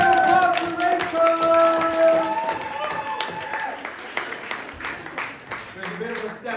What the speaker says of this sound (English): Big round of applause for Rachel!